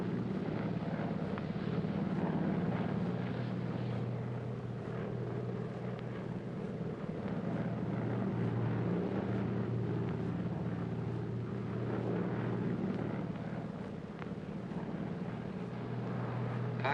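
Airplane cabin in flight in a 1948 film: a steady, low, continuous engine drone fills the whole stretch at moderate level, unchanging, with no voices.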